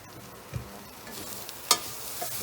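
Onion and mushroom sweat quietly in a pan for a chili, giving a faint, soft sizzle with a few light scrapes and one sharper clink partway through.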